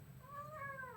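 A pet cat gives a single soft, rising meow, close by and quiet, with only faint room noise around it.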